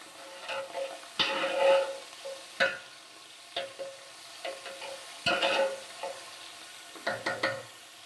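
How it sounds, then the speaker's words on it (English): Whole spices, about 3 or 4 cardamom pods, 10 black peppercorns, 8 cloves and a few cinnamon sticks, sizzling in hot oil in a pan for a Memon haleem soup, a steady crackle broken by several sharp louder bursts as the pan is stirred. "While this is sizzling"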